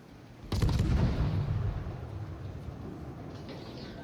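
Warship main battery guns firing in World of Warships, one heavy booming salvo that erupts suddenly and rolls into a long fading rumble.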